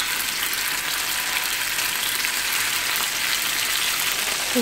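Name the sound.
lemon pepper chicken frying in peanut oil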